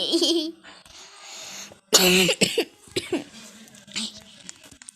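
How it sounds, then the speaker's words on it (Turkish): Several sharp coughs burst out in a loud cluster, with a laugh near the start and quieter breathy sounds trailing after. "Öksürüğüm var."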